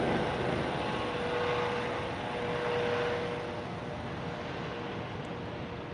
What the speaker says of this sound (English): let this helicopter pass.